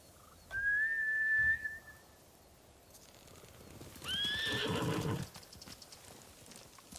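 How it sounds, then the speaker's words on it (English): Horses in the Ghost of Tsushima video game whinny and neigh in two loud bursts, with hoofbeats clattering underneath as they run off, then fading into quiet ambience. "Bastards scared off the horses."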